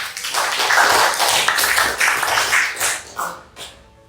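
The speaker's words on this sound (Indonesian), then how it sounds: "kita berikan aplaus yang luar biasa untuk semangat kita hari ini" A classroom audience applauds at the close of a teaching session, a dense burst of many hands clapping that carries on for a few seconds and then tapers into scattered claps.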